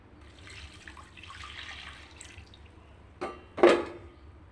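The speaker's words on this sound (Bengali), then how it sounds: "এবার জল দিয়ে দেবো।" Water pours from a tap or jug into a pot of boiling masoor dal with drumstick stems, a short splashing burst near the end that follows a stretch of soft background clatter.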